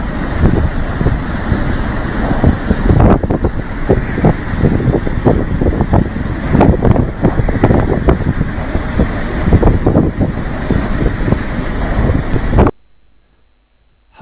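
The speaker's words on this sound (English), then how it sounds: "The waves must be at least 50 feet high, washing in on the shore and over the island in the distance." Huge waves crash onto the shore on a windy coast in Shetland, a loud continuous roar of surf with heavy wind buffeting the microphone before cutting off abruptly near the end.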